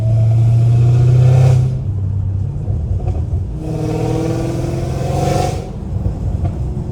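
A deep straight-piped V8 engine of an 850 hp Hellcat Redeye revving close by, a low throaty drone that rises in two strong pulls with a burbling idle between them.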